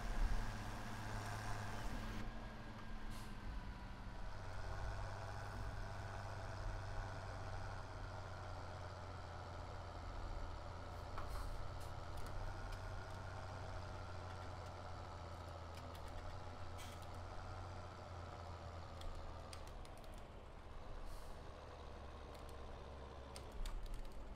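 A tractor engine idles steadily in Farming Simulator 17, a continuous low, even drone with a faint harmonic hum and small clicks, heard alone with no talk.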